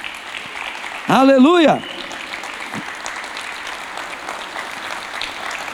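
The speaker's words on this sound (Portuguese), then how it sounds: "Dá uma salva de palmas para Jesus" A church congregation at a Sunday service applauds in a steady background patter while a single voice calls out loudly over it for a moment.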